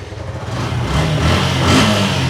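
A second-hand motorcycle engine revs up close, rising from a lower run to a louder, sustained throttle roar over about two seconds, with no voices over it.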